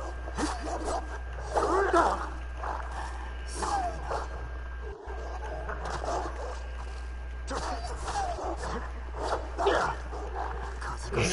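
Dogs bark and yip repeatedly in the video game Ghost of Tenchu, a busy run of short barks mixed with game sounds while a person talks over them throughout.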